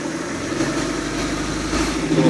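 A 1988 Larson boat's OMC 3.0 120 hp engine is run up lightly in forward gear, a steady close rumbling drone with a slight rise in revs near the end.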